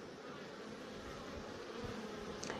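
Honeybees buzz at a home apiary in the evening after a warm turn in the weather, a steady low drone of many insects close by, with no talking.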